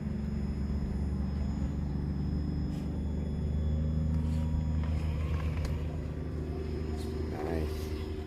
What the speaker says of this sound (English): Alright, here we go with the Chevy. Going to enter into the moat.